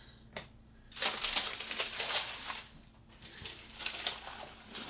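Paper stuffing is pulled and crinkled out of a Nike Air Max 270 React sneaker box, close rustling bursts of rough crackle coming in quick clusters with brief quiet gaps, no talking.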